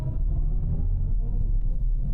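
A BMW i7 luxury sedan plays its start-up sound, a deep, steady, throbbing rumble that holds at an even level with no one speaking.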